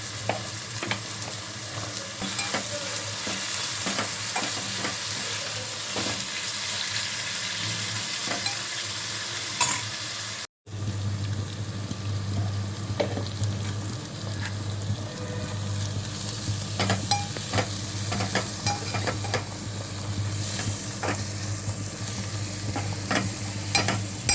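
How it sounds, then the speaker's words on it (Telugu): Dry fish frying in hot oil for a tomato curry, a continuous close sizzle with scattered scrapes and taps of stirring throughout, a brief dropout midway, no voices. "ఆయిల్లో చేపలు ఫ్రై అయితే మంచి స్మెల్ వస్తుందండి"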